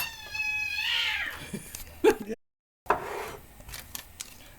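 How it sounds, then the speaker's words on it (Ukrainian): Two cats fight in a kitchen during cooking, letting out a drawn-out yowl followed by scuffling clatters, a brief silence, then more scrabbling noises close by. "коти побилися"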